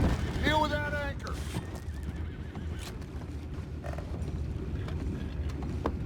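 Horses in Red Dead Redemption 2 whinny loudly near the start, a rising and falling neigh, followed by scattered hoof clops and creaks over a steady low rumble of wind and ambient game noise.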